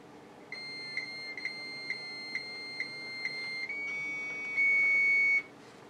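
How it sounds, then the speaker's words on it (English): An old PC's 300 baud dial-up modem gives a string of short electronic beeps, then sustained steady tones that shift pitch and grow louder near the end, with no voices. "And for those who love the dial-up sounds"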